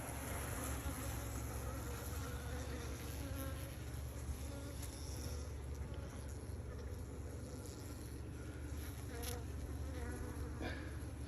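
Dense, steady hum of many honeybees in an opened hive, close and continuous, with a faint voice murmuring occasionally underneath.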